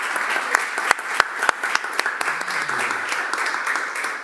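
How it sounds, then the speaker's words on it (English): An audience at a science policy event applauds, with a crisp spatter of hands in a room and a few louder individual claps standing out, while a faint voice murmurs underneath. "please let's give us a big round of applause"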